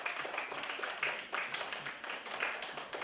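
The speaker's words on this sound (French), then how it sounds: "je vous demande de vous mettre debout pour applaudir les parents, spécialement" Standing audience at a school end-of-year celebration applauding the parents, steady rhythmic clapping in bursts with some voices mixed in.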